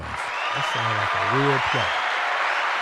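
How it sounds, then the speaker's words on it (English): Audience applause runs as a steady wash beneath a voice talking over it for the whole stretch. "Let's give German Home Solutions a round of applause."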